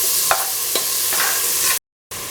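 Salt and chopped tomatoes go into khichdi frying in a pan, with a few soft scraping stirs over a continuous gentle sizzle, close by, broken by a brief cut near the end.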